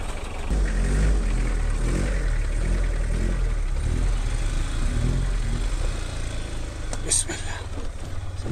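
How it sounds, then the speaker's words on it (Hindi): A motorbike squeezes past a car stuck on a narrow mountain road, its engine a steady, loud mid-pitched drone that holds throughout, with a brief higher whine near the end. "बाइक निकल जाएगा साइड से।"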